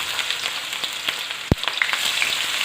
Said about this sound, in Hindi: ये मैंने कढ़ाई में ऑयल डाल लिया है। अब इसमें मैं डाल रही हूँ प्याज।